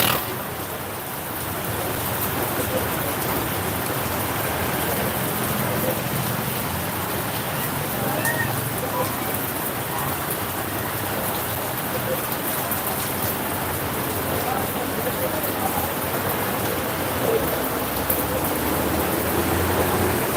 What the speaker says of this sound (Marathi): अतिशय सुंदर असा पाऊस चालू आहे